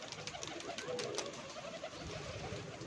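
A pigeon gives faint, soft cooing, brief and low in level against a quiet outdoor background.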